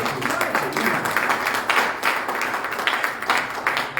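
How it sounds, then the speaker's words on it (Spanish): A church congregation applauds during a sermon, a steady dense wash of many hands clapping at moderate distance, with a voice faintly mixed in underneath. "Dale fuerte aplauso"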